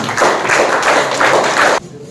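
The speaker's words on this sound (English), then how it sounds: "Please give a huge round of applause" An audience at an Interact Club installation ceremony claps in loud, steady applause for nearly two seconds before it stops abruptly.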